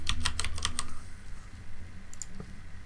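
Rapid computer-keyboard typing while entering a value in Substance Designer: a quick burst of close, crisp key clicks in the first second, then a quieter gap and a couple of isolated keystrokes later, with no talking.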